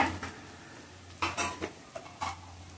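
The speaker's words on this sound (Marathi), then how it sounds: "आता आपण याच्यात टाकणार आहोत" Okra dropped into a hot pan on a lowered flame, a few clattering knocks of pan and spoon with light stirring and faint sizzle, close and alone.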